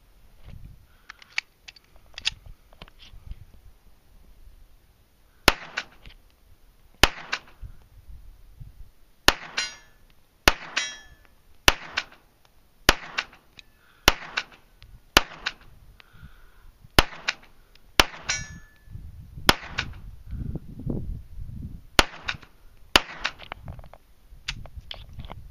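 Shots from an EAA Match 9mm pistol fired at targets 100 yards away on an outdoor range: a long series of sharp, crisp cracks at a steady, unhurried pace, some close together, over quiet background rustle.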